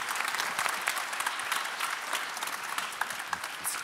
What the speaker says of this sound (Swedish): Jättestor applåd.